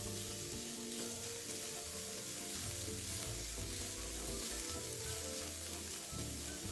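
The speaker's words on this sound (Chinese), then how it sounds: "油爆至葱片金黄色后，加入3朵预先切成丁的香菇，" Sliced shallots and diced shiitake mushrooms fry in oil over medium heat, making a continuous, fairly quiet sizzle with faint stirring throughout and no voices.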